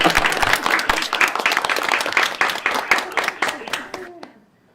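A group claps for several seconds in a class setting, a quick rapid patter of hand claps that thins out and stops near the end, with a voice speaking over part of it.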